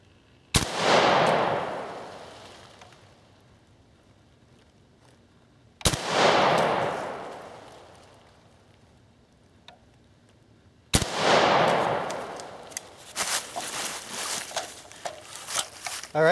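Three loud rifle shots from an accuracy test group on a range, each a sharp crack with a long rolling echo, spaced about five seconds apart; scattered clatter and handling noises follow the last shot.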